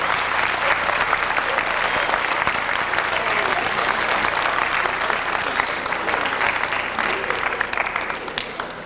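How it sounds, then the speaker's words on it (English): An audience at a school gathering claps to welcome a city councilman: dense, steady applause that fills the whole stretch at an even level, with no break, from a large crowd in a hall. "let's receive with a big hand round of applause Mariano Vega"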